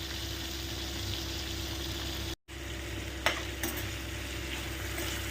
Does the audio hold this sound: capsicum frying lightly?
yes